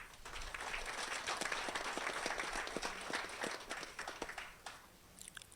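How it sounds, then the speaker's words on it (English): A crowd applauds Professor Namandi at a groundbreaking ceremony, dense hand clapping rolling on steadily from a moderate distance before thinning to a few scattered claps at the end. "let's give Professor Namandi a round of applause."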